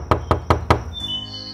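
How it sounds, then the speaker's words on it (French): Four firm, evenly spaced knocks on a door, close and distinct, followed by a soft lingering tone with no voices. "quelqu'un frappe à la porte de Coccinella"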